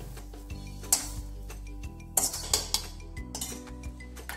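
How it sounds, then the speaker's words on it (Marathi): Samosa potato filling is scooped from a cooking pot into a bowl, producing sharp metallic clinks and scrapes of a spoon against vessels, several irregular close knocks over a quiet room. "एका भांड्यात काढून घ्यायचं आहे।"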